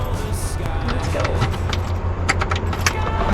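Keys jangle briefly in a cockpit before starting a small airplane, a light metallic rattle over a steady low cabin hum.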